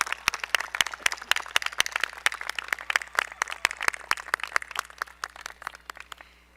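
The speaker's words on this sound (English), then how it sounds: "A round of applause for our class officers." Graduation crowd clapping for the class officers: crisp, distinct claps in an uneven patter from a modest group, gradually thinning and fading out toward the end.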